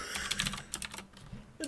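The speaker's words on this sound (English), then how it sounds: "Oh, my typing's terrible." Fingers tap on a computer keyboard in quick irregular bursts, close and fairly soft, with short pauses between clusters of keystrokes and no talking.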